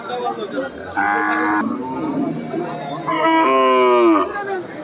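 Cattle at a Bangladeshi cow market low in two long, loud moos close by, separated by a short gap filled with faint market background noise.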